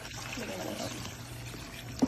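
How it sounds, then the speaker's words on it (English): Water pours into a cooking pot holding potato and cauliflower pieces, a soft, steady trickle close by beneath a person talking. "Can you add water to it?"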